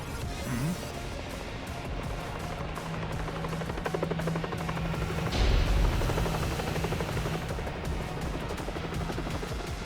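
A helicopter in the video game Shadow Generations whirs with a steady rotor drone under busy game action, including a louder crash-like burst midway.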